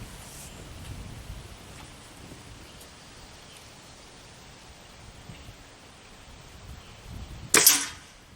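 A Benjamin Classic .22 caliber air rifle, freshly lubed with silicone, fires a single sharp crack near the end after a long stretch of quiet outdoor background hiss.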